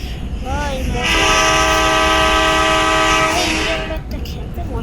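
Loud horn of a passing train in the Indian Bike Driving 3D video game, sounding as one sustained multi-tone blast of nearly three seconds over steady rumble and rail noise.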